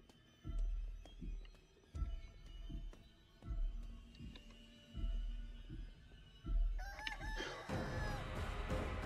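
Video game chicken sounds, with rhythmic heavy thumping footfalls about once a second and squawking clucks, the racket thickening into a dense burst near the end.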